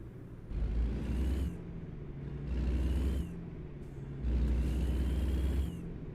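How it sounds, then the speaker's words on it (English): Three separate deep roaring bursts from an Australian truck's exhaust, each lasting about a second, swell over a steady low engine rumble with short lulls between them. "Now hear the difference in this exhaust now."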